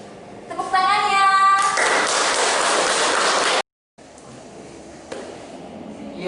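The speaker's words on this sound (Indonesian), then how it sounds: "Tepuk tangannya." Dense applause from a church service congregation swells and holds for a few seconds, briefly cuts out, then resumes more softly with some scattered claps.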